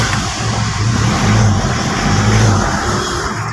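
A Toyota Revo diesel engine runs loud and close, its low rumble swelling into two revs and settling back between them, with no talk over it.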